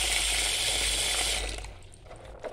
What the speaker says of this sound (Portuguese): Vou estar colocando água